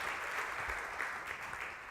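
A church congregation at a Sunday service claps together in a steady, dense burst of applause, fairly quiet and heard alone without talk over it.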